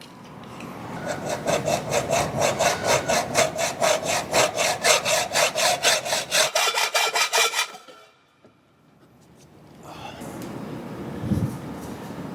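A hand saw cutting through a segmented overfill prevention valve tube, a fast regular rhythm of rasping back-and-forth strokes for about eight seconds, then a pause and a fainter scrape and handling noise.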